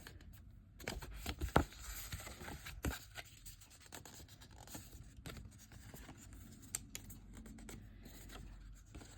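A tool drawn along the score lines of die-cut paper to reinforce them, making soft scratchy strokes and rustles up close, with a couple of sharper taps early on, all fairly quiet.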